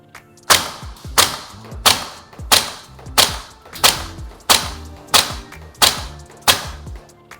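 Maruyama ISO556 airsoft rifle firing 0.3 g BBs on a 30 m grouping test: ten evenly spaced single shots, each a sharp thump with a short decay, about two thirds of a second apart, no talking.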